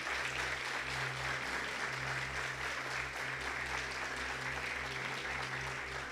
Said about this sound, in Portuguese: Vamos receber o irmão com uma salva de palmas.